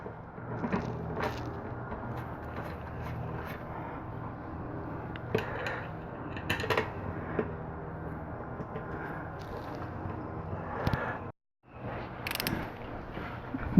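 Bolts being threaded in by hand on the fuel pump of a 2007 Suzuki Bandit 1250, a steady metallic clicking and ratcheting with occasional sharper ticks, close up, with a brief drop to silence near the end.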